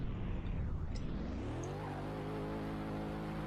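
Land Rover Defender engine in a driving video game, revving up with a rising whine that settles into a steady drone, loud and close with tire and road noise mixed in.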